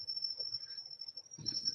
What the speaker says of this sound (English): People hate my crickets, man.